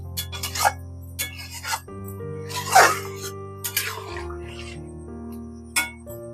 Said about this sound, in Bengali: গরম জলটা দিয়ে একটু নাড়িয়ে নিতে হবে